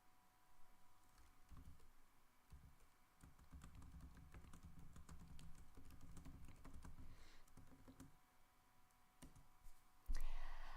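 Rapid, uneven clicking from a computer keyboard being typed on close by, in bursts with short pauses, fairly quiet overall, ending in a louder clatter.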